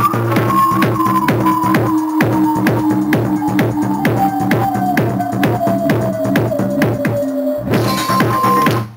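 A synth tone sweeps slowly downward in pitch through a busy electronic mix over steady pulsing beats, then the mix shifts abruptly near the end.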